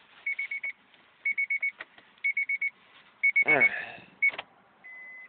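A Honda's key-in-ignition chime sounds in short repeated groups of electronic beeps, then a brief sustained tone, all close and clear in a quiet car, with a short word of speech and a rustle in between.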